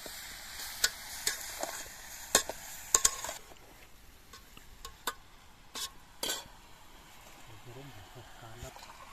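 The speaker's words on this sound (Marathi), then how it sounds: "तर यामध्ये आता व्यवस्थित असे मिक्स करून घेऊ" Red fish and spices are stirred in a hot pan, giving scraping clinks and soft sizzling in scattered bursts, loudest early and fading to quieter stirring, under a speaking voice.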